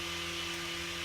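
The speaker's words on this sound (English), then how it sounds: "Guys, the vacuum is very loud." A neighbor's vacuum cleaner runs continuously with a steady, broadband whooshing roar and a low motor hum, fairly loud and unbroken, with no speech over it.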